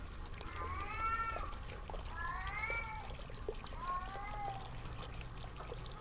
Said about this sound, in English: There's a cat down here!